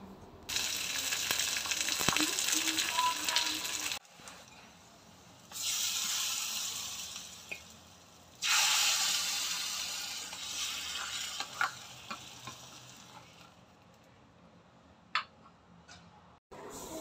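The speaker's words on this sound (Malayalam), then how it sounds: "ഒരു 3-4 വെളുത്തുള്ളി ഇങ്ങനെ ചതച്ച് ചേർത്ത് പിന്നെ സവാളയും ഇച്ചിരി മല്ലിയിലയും ഇതിൻ്റെ അകത്ത് ഇട്ട് വഴറ്റി കറിവേപ്പില ഇട്ടിട്ടുണ്ട്" Garlic, onion, coriander and curry leaves sautéing in oil for a tempering, bursts of close sizzling that cut off and return several times, with sharp ticks and clicks between them.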